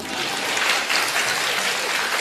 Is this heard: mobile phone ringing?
no